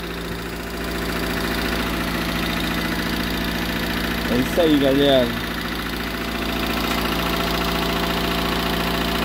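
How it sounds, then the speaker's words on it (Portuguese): A Fiat Uno that had sat unused for three years idles after a restart, a steady close mechanical drone with a faint ticking knock, while someone speaks briefly over it. "Barulhinho que tá no motor"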